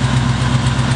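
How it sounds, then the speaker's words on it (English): Engine idling steadily with an exhaust header leak on a Cosmic Cruiser, a loud close rumble with a strong low throb and a faint ticking pulse, no voices. "the header leak quieted down a little bit"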